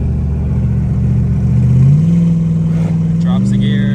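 Turbocharged Cadillac CTS-V with a manual transmission, its engine droning loud and steady at a low pitch, then stepping up in pitch twice as the gearbox drops gears by itself.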